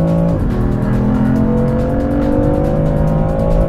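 A turbocharged straight-six engine in a BMW F80 M3 drones loudly at close range, its pitch dipping briefly then climbing steadily as it revs up under load.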